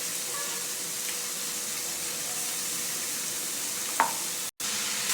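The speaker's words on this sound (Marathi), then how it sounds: "तेल गरम झाले की मोहरी टाकायची मोहरी अशी तर टाकायची कांदा टाकायचा बारीक केलेला कांदा" Chopped onions and mustard seeds fry in hot oil, giving a steady, even sizzle and hiss throughout with one brief sharp clatter near the end and a momentary dropout.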